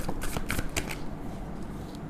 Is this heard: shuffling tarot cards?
yes